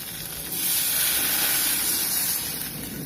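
A steady hiss and sizzle as water is poured into a hot pan of onions and tomatoes for drumstick leaf soup, growing a little louder then continuing evenly.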